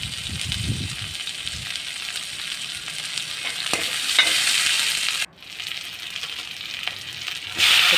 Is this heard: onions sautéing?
yes